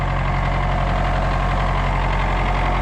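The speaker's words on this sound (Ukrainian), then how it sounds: "Мокрувато, бач, трактор прогрібає, це ж на вгороді тут цілина" MTZ-80 tractor engine running steadily while plowing wet virgin ground in a garden plot, a loud, continuous low diesel drone with no pauses and no voices.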